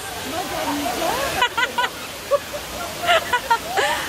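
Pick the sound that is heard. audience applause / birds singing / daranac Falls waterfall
daranac Falls waterfall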